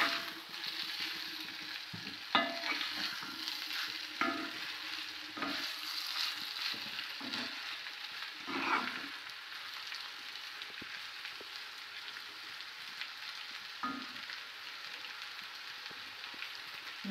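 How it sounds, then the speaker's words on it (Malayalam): Beef being stirred as it fries in a pan for a Kerala-style beef roast, giving a steady close sizzle broken by irregular scraping strokes of the spoon, with no talking. "ഇളക്കണം. ഇത് ഈ ചട്ടിക്കകത്ത് കിടന്നു നല്ലോണം റെഡിയായി വരട്ടെ."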